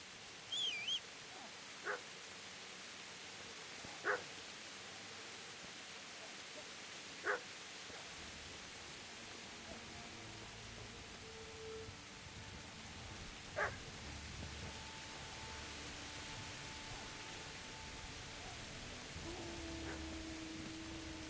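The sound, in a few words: dog barking in Kingdom Come: Deliverance video game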